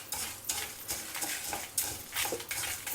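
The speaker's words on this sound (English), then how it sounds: "We will roast all these together till the dals get nice and crispy and slightly change color to a reddish brown." Tur dal and dry red chilies are dry roasted in a pan and stirred, producing quiet, repeated scraping and rattling strokes about every half second with a faint sizzle underneath, close up.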